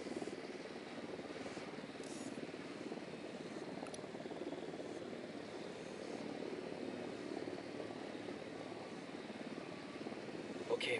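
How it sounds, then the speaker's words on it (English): A surveillance drone in the tactical shooter Ghost Recon flies with a steady, droning propeller hum that stays even and moderately quiet throughout, with faint game sounds around it. "Drone is up."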